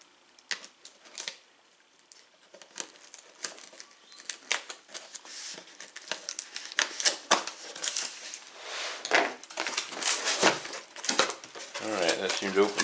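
Sealed packaging on a grinder box is pried and torn open, making irregular crinkles, tape rips, snaps and rustles that grow busier and louder as the box gives way.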